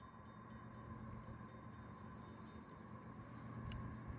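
A KCS-led freight train approaching along the track in falling snow, a steady low rumble with a droning tone that holds constant throughout, distant and continuous with no talk.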